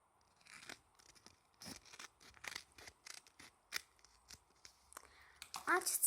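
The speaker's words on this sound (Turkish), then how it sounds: "Hadi o zaman kesip açalım." Scissors snipping and tearing through a handmade Harry Potter gift box, a series of short crisp cuts and paper rustles in an uneven rhythm, close but faint, growing louder at the end.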